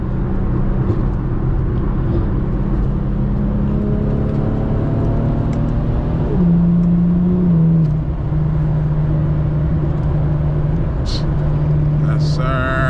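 Steady road and engine hum from an Infiniti car on coilovers cruising a highway at speed, with a brief shift in engine pitch partway through while someone talks over it.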